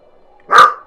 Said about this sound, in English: Someone must be going by for my dog to be barking away